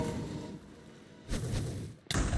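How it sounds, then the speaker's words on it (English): Boss explosions in a modded Minecraft survival game: a dull thud at first, then two heavy booming blasts in quick succession, the second sharper and louder, with no talking. "Did not avoid the explosions."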